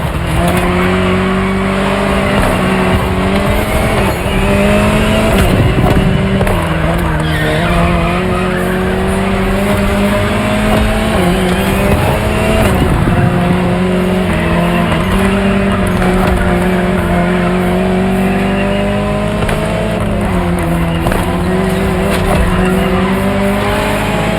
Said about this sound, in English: Jaguar CX-75 concept.